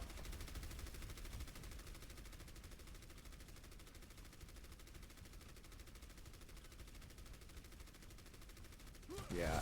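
Rapid volley of Pharah's rocket barrage in Overwatch during a tier 3 collegiate tournament match, a dense, sustained stream of bursts filling nearly ten seconds, ending in a sharper loud surge.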